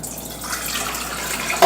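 Warm water pours steadily into a stand mixer bowl for white bread dough, a continuous close trickle and splash that swells slightly toward the end, with no voices.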